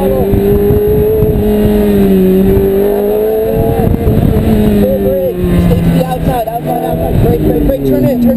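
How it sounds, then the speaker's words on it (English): A car on a racetrack accelerates hard at full throttle, its engine note loud and close and rising in pitch, with a person talking over it throughout. "Back on the gas, full throttle."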